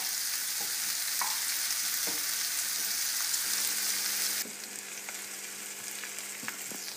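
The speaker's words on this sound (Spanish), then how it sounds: "casi fritita la cebolla" Onion fries gently in a pan with a pinch of salt, a close, steady sizzle with faint scattered taps, dropping slightly in level partway through and continuing more softly.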